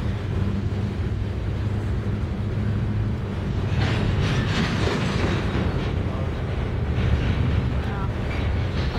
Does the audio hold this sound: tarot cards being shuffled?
no